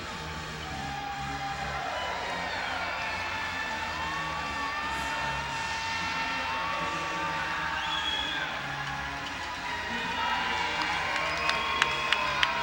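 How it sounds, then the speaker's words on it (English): A crowd at an NBL Canada Finals basketball game between Halifax and London cheers and whoops steadily late in the fourth quarter, a continuous roar with scattered shouts, whistles and a few sharp claps near the end. "Crowd starting to come on now, being encouraged to make some noise"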